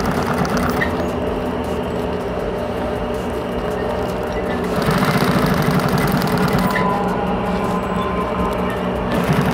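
A sewing machine stitches a thermal bag, a steady continuous mechanical whir that grows a little louder and busier partway through, running alone without talk.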